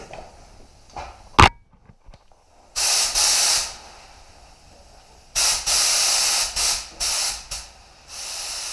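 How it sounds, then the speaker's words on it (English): A spray gun test-sprays 2-pack primer in short bursts of loud, close hissing, several separated by pauses, with a compressor running in the background. "Bit of a test spray down there."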